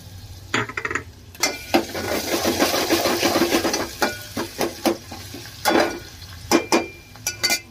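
Onion and mustard seeds fry in a pan for khichdi, giving a crackling sizzle with repeated sharp clatters of a spoon stirring against the pot, close and fairly loud, with no talking.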